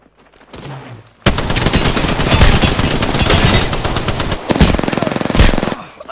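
Rapid automatic gunfire in the shooter game Apex Legends, a long loud close burst of fast shots followed by a shorter burst, after a brief quiet lead-in.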